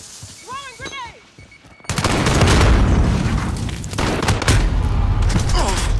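A loud, sustained burst of explosive noise in Call of Duty: Modern Warfare, the grenade blast rolling into continuous heavy gunfire after a brief voice near the start.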